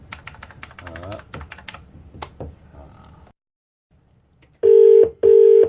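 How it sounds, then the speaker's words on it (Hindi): Two loud, steady dial tones beep in quick succession near the end, following a stretch of soft tapping and a few clicks before a short silence. "फोन मिलाओ, मुर्गा बनाओ।"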